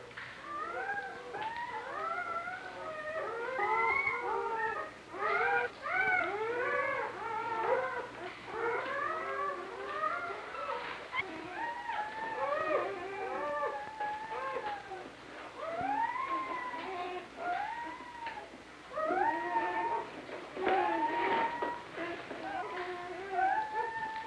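Newborn puppies with their mother dog during a birth, a continuous chorus of thin high squeals, whimpers and yelps, fairly close and steady throughout, with no talking.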